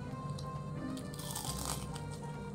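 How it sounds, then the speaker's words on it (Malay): Crunchy flour-battered squid is chewed close up, giving soft, quiet crackling crunches in a short burst with no talking. "Okey, kena pula dengan tepung yang garing ni, memang sangat-sangat sedap. Tak boleh berhenti makan"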